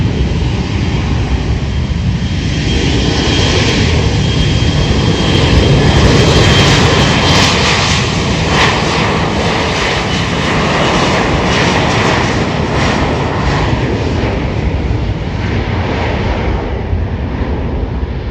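A J-Air jet airliner takes off, its engines producing a loud, steady, broad roar that holds for the whole stretch with a faint rise and fall and no voices over it.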